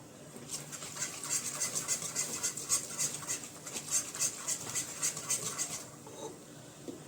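Minced meat stirred in a pan while being cooked, with a steady run of soft scraping and sizzling strokes in a quick repeated rhythm that stops near the end.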